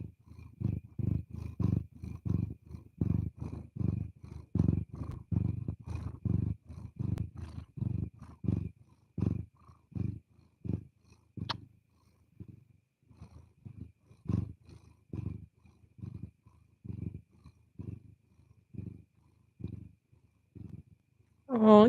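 Domestic cat purring close up: a steady, rhythmic low rumble pulsing with each breath, continuing for over twenty seconds, loud at first and softening later, with a brief sharp noise near the end.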